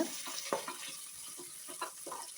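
Chopped onions sizzle and crackle in hot oil in a pan for a Tamil mutton kulambu, a faint steady frying hiss with small pops and stirring scrapes throughout.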